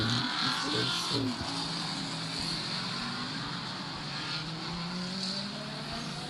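NASCAR trucks racing at Daytona in a Nintendo Wii game, a steady droning whine of synthetic engines, slightly louder at the start and then fairly even.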